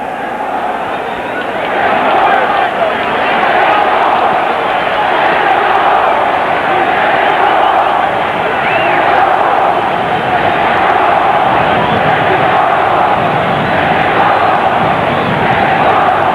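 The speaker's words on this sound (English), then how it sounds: "This near-capacity crowd chanting Mexico, Mexico as we begin the fight." A near-capacity boxing arena crowd at a WBC super lightweight title fight, chanting Mexico in a loud, sustained roar with rhythmic swells throughout.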